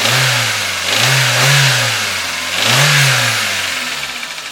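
A small 1994 Toyota Corolla 4-cylinder engine, freshly rebuilt, is revved in several rising and falling pulls. The loud, close engine note swells and drops back toward idle between bursts, with no talking.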